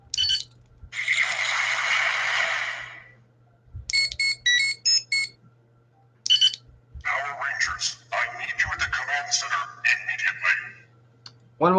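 Toy action figure playing a tinny electronic song, probably the Power Rangers theme, in short melodic bursts with noisy gaps, loud and close over a faint steady hum.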